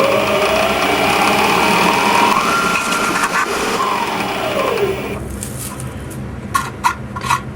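A compact electric power hacksaw buzzes through plastic with a rising and falling motor whine. It then stops, leaving a few sharp knocks and clatters close by.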